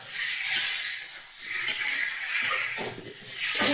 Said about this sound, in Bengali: এবার দেখো সমস্ত মশলা আমি ভালো করে কষিয়ে নিচ্ছি।